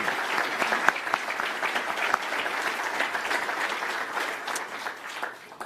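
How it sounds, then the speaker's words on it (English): An audience at a State of the City press event applauds former officials with steady, sustained clapping from a crowd that fades slightly toward the end. "Please give them all a round of applause for their service."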